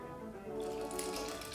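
Water poured from a cup into a cooking pot while mixing play dough, a steady close splashing pour swelling louder partway through, with no talking.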